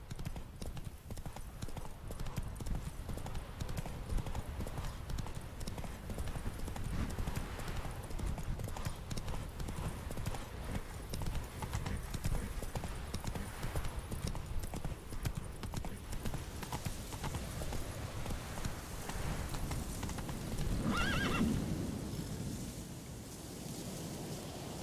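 Roach the horse gallops in The Witcher 3, a steady rapid clip-clop of hooves under wind and ambient game sound throughout, with a brief neigh near the end.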